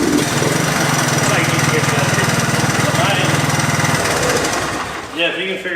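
An abandoned three-wheeler ATV engine idles roughly with a steady, chunky putter that runs for about four seconds, then fades to softer sputtering, while a person speaks over it.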